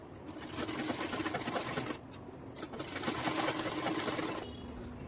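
A sewing machine stitches a seam in a ladies' pant, a fast, steady mechanical whirring with a brief pause partway through before it resumes running close by.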